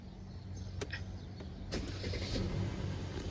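A 2017 Mercedes-Benz S-Class S400 comes to life with a couple of sharp mechanical clicks, then the engine catches and settles into a steady, fairly loud idle close by.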